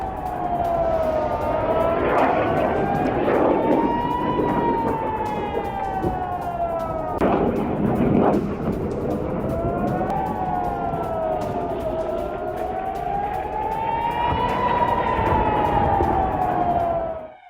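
Air raid alert sirens wail across an Israeli city during the Israel–Hezbollah war, pitch rising and falling in long slow cycles, loud and sustained with a brief dip partway through.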